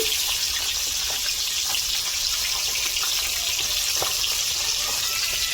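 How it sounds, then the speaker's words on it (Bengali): Tilapia fish frying in oil in a pan in a home kitchen, giving a steady, loud broadband sizzle with faint crackles and pops throughout, no voices. "মাছটা ভেজে নিচ্ছি"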